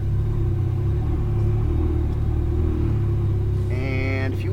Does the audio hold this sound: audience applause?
no